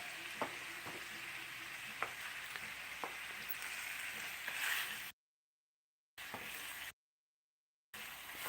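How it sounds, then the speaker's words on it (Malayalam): Beef roast with masala frying in a pan while being stirred, a continuous close sizzle broken by a few scraping clicks of the spoon, then cut by abrupt gaps of silence. "അപ്പോൾ ഇതുമാതിരി നന്നായിട്ട് ഇളക്കി മിക്സ് ചെയ്തെടുക്കണം"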